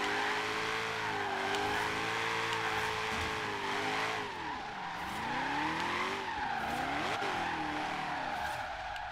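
A 1932 Ford drift build in Forza Horizon 3 slides with sustained tire squeal over a loud, steady engine drone, the pitch sweeping up and down as the car rocks through the drift, with no one talking.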